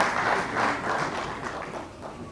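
An audience applauds the school staff at a prize-giving ceremony for baccalaureate graduates: a steady, fairly distant wash of clapping that swells slightly and then eases over its brief span.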